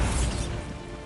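A Bombarda blasting spell going off in Hogwarts Legacy, a brief dense crashing burst with heavy low rumble that fades within about a second.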